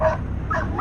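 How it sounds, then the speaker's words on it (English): A dog barking at night, one or two short close yelps in under a second, fairly loud against low background rumble. "That's the dog making all the noise."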